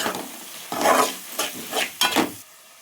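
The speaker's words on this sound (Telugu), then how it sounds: "ఇది మంచిగా కలుపుదాము." A spoon stirs a salted egg-fry mixture of raw eggs in a pan, giving several close, scraping strokes in an uneven rhythm, each swelling briefly before stopping.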